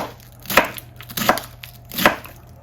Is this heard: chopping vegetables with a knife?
yes